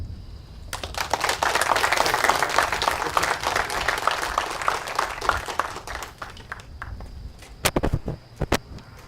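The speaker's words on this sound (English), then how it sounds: "You guys are the best clapping crew I've ever heard." A crowd claps steadily at a marina renaming ceremony, a dense wash of hands that thins out, leaving a few scattered sharp claps near the end.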